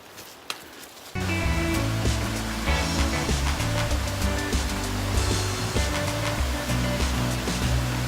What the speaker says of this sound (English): Hearing lots of cascades and waterfalls to our left.